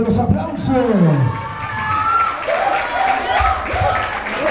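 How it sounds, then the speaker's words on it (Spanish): Crowd at a quinceañera party cheering and clapping amid hip hop music, loud and close, with shouting voices and babble mixed through the applause. "¡Fuerte los aplausos!"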